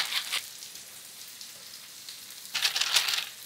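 Tofu frying face down in a pan makes a soft, steady sizzle that swells into louder crackling bursts at the start and again near the end.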